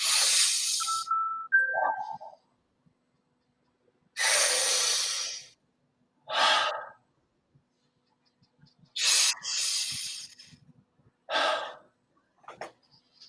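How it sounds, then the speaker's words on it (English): Alternate-nostril breathing: air is drawn in through one nostril and pushed out through the other, in about six close, distinct nasal breaths separated by short pauses, with no talking. "you're breathing in through the nose and then you breathing out through the other nose nostril"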